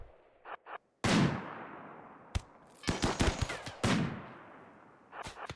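Rapid bursts of gunfire in the video game RimWorld: a loud opening blast, a sharp single shot, then clustered volleys and a final flurry, with no talk.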